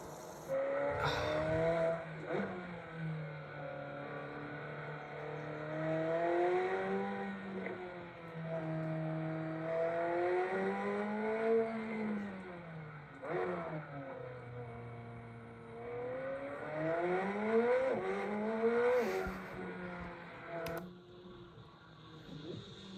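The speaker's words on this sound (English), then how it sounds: "this is a 765 LT McLaren." McLaren 765LT sports car engine rising and falling through several rev sweeps and gear changes, with a harmonic whine climbing and dropping repeatedly, heard at moderate distance with no talk.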